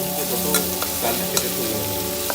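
Fish pieces frying in oil in a pan with stirring, a steady crackling sizzle throughout and a few sharp scrapes and clinks of the utensil against the pan.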